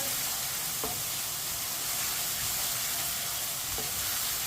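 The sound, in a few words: chicken with ginger cooking in a pan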